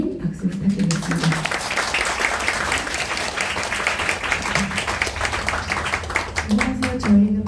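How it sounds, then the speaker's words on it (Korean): An audience at a book concert on Korean music applauds as two pansori performers, a singer and a drummer, are welcomed. The clapping is dense and sustained, with brief bits of voice overlapping near the start and end. "김소진님, 이하한님 박수 부탁드리겠습니다"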